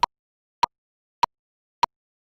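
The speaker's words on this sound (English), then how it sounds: "A metronome or a click is a tool that can do that for us." Four sharp, evenly spaced metronome clicks marking quarter notes, about 0.6 seconds apart, crisp and alone against silence.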